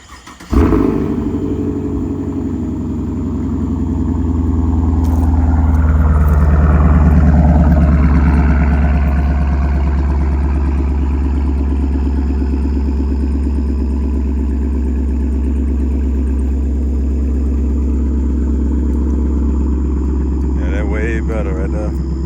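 A Chevrolet Camaro SS V8 engine cranks and catches, then settles into a steady, loud, deep idle close by, with a swell in revs early on and a person talking briefly over it.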